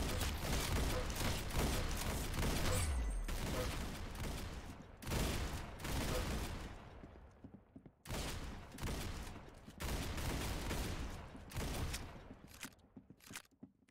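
Shotgun blasts in a Roblox shooter game, loud booming shots with reverberant tails, coming in clusters and then spaced-out single bursts with short gaps between.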